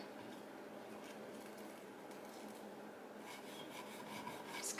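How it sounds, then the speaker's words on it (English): A knife runs along the edges of a Dollar Tree St. Patrick's Day decor piece to trim off excess, making a steady, soft rasping scrape throughout that grows slightly louder toward the end. "I'm gonna take my knife and just kind of go along the edges here to get that excess off."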